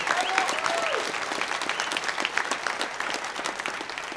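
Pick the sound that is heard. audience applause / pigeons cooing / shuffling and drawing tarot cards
audience applause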